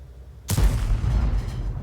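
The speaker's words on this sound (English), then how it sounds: "Oh, that's the first shot that went astray" The Dicker Max tank destroyer in World of Tanks fires its main gun: one sharp, loud blast after a brief quiet, followed by a booming rumble that decays slowly.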